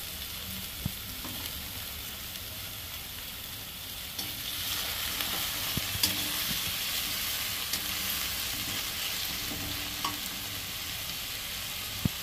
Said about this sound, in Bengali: আলুগুলোকে আমি একটু লাল লাল করে ভেজে নেব